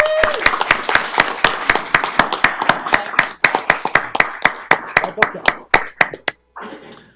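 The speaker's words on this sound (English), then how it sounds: "let's give her a round of applause" Loud applause from a group at a water authority board meeting, a steady run of sharp claps that thins out and stops, followed by a brief murmur of voices.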